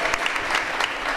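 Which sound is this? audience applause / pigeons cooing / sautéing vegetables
audience applause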